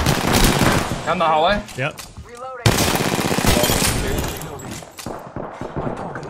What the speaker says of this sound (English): Got shots fired. Shots fired.